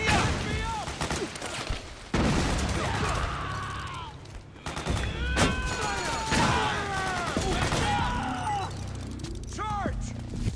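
Suppressing gunfire in Metal Gear Solid 4, bursts of rifle and machine-gun fire crackling in quick clusters amid a chaotic battle, with soldiers shouting over it.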